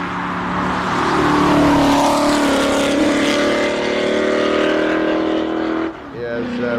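A Ford GT race car climbing a hill climb course at a classic car event, its engine roaring loudly and steadily as it revs through gears, then dropping off briefly before picking up again, with speech mixed in.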